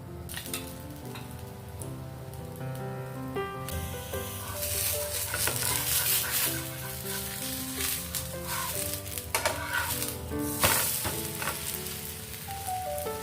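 A masoor dal dosa sizzling in oil on a pan, a steady close crackling fry over a background of soft music, growing busier partway through with scattered spattering pops.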